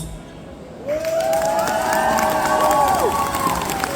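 An audience at a cosplay contest breaks into loud, sustained cheering and whooping with some clapping, rising abruptly after a quieter first second and holding steady.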